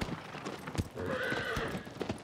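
Hoofbeats of the horse Agro galloping in Shadow of the Colossus, a steady clip-clop rhythm of hooves at moderate volume with faint game ambience behind it.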